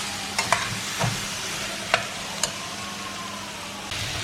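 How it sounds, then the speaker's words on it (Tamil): Mutton pieces and small shallots stir-fried in oil for a mutton masala, a steady sizzle under sharp scrapes and clacks of a spoon against the pan, recurring every second or so, close and alone without speech. "இப்போ அந்த எண்ணெயிலேயே இதை நல்லா பிரட்டி விட்டுருலாம்."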